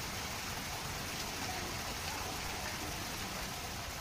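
Heavy monsoon rain falls in Vadodara, a steady, dense hiss of downpour on surfaces that holds at an even level from start to end, with no voices.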